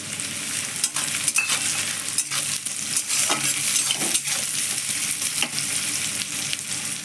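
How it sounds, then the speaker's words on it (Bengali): Onions and green chillies fry in a pan, giving a steady close sizzle with occasional scraping stirs of a utensil throughout, no voices. "পেঁয়াজটা একটু আমার লাল লাল করে ভাজা হয়ে গেছে"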